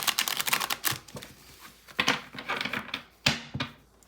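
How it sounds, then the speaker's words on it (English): Tarot cards shuffled by hand in a quiet room, a run of quick dry riffling clicks and slaps in bursts with short pauses, close and fairly soft, no voices. "Let me shuffle one last time, actually."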